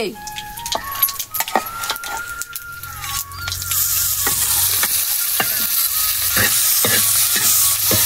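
Garlic, peanuts and green chili frying in a pan for a homemade vegetable dish: a steady hiss and sizzle that swells louder midway, with spoon scrapes and stirring clatter throughout.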